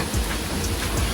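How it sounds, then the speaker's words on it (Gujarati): Heavy rain pouring steadily, a dense close hiss of drops striking surfaces throughout a short stretch with no voices. "અત્યારે વરસાદ બહુ સારો એવો ચાલુ છે."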